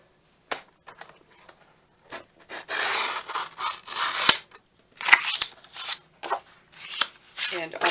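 Scissors snip through a paper file folder in short, close strokes, with bursts of papery rustling and crisp cuts between brief pauses.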